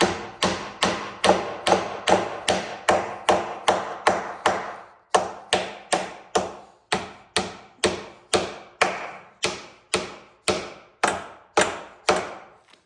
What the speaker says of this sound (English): tap the top wedges in and just tighten the joint